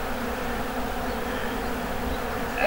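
Swarm of honey bees buzzing steadily and close during a honey harvest in the Landes, a dense continuous drone with no talk over it.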